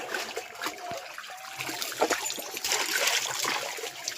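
Water flowing steadily outdoors at a flooded spot where leafy greens are being gathered: a continuous close trickling and splashing rush with a fairly even level throughout.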